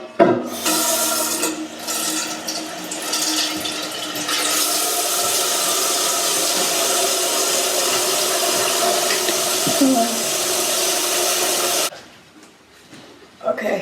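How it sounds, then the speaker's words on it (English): Water running from a tap into a pot to dye fabric with dandelions, a loud continuous rushing splash that holds steady for about twelve seconds before shutting off. Close, with a brief voice at the start. "So yeah, we're gonna fill this pot with water."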